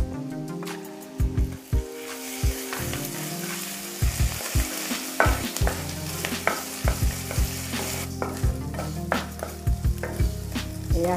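Ginger garlic paste frying with onion in a hot pan, a continuous close sizzle with frequent sharp stirring knocks and scrapes throughout, no voices.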